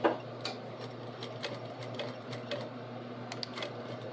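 A sewing machine runs a back stitch through stretch fabric while an apron is built, its needle ticking in a fast, steady rhythm with a constant motor hum underneath, close and fairly quiet.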